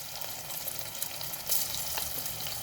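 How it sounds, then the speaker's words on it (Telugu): Ginger garlic paste sizzles and fries in hot oil alongside cumin seeds over a low flame, a steady close crackle with a slight surge midway. "ఇప్పుడు జింజర్ గార్లిక్ పేస్ట్ వేసుకుందామండి"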